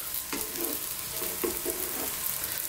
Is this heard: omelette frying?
yes